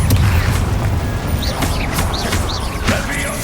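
A Bombarda explosion spell goes off in Hogwarts Legacy, with loud booming crashes and several sharp impacts over a noisy game soundscape, plus brief chirpy effects.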